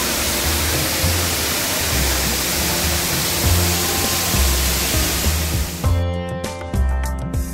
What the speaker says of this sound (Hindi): ये वाटरफॉल मध्य प्रदेश में आगे सबसे बेस्ट वाटरफॉल है